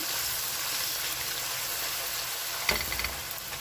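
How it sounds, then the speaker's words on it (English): Food with curry powder and thyme frying in a pan with a steady, close sizzle throughout; a brief clatter and stirring sound near the end, no talking. "And we continue frying."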